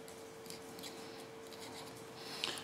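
A pen scratching as someone writes on a plastic plant label, faint soft strokes over a steady hum, one sharper scrape near the end.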